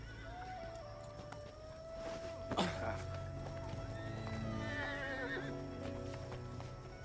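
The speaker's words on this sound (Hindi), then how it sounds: "अभी के लिए तुम हमारे घोड़ा पे आओ" A horse whinnies loudly in a long, wavering call while hooves clip-clop steadily underneath, set in an outdoor scene from a Hindi action film; a sharp thump lands partway through.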